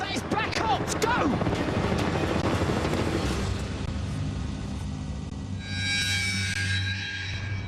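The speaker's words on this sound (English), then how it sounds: "That is a military helicopter. In fact, it's a Black Hawk." A Black Hawk military helicopter flies over Sedona, Arizona, its rotor thumping and whining at moderate distance while people talk excitedly over it.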